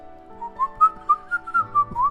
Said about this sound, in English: blowing air tunelessly through her lips in what I can only assume is an attempt at whistling